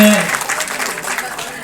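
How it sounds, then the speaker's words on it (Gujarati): Applause for the host family at a Hinglaj Mataji havan during a Vadnagar Bhavsar community religious gathering, a steady crowd clapping over the full stretch, with a short tone at the start. "એક વાર તો આ પરિવારોને તાળીઓથી વધાવો"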